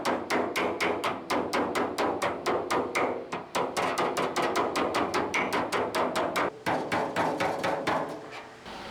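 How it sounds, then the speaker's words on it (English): Rapid, steady hammer blows ring on a metal flange during bodywork on a V8 Toyota Celica, dozens of sharp strikes in an even rhythm with a few brief pauses, loud and close. "I have room to swing a hammer over the top of it."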